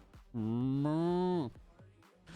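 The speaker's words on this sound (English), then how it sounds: "it's hilarious to hear the cow moo over you because you're in game" A cow in a video game lets out a single long, drawn-out moo lasting about a second, loud and clear, with faint background noise around it.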